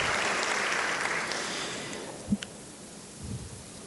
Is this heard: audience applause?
yes